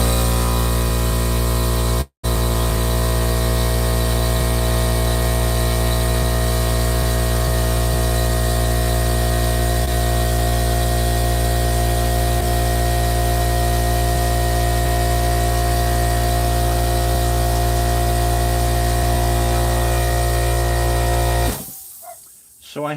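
A paint spray gun runs continuously as a loud, steady hiss with a constant hum beneath it, broken by one very brief cutoff early on and stopping just before the end.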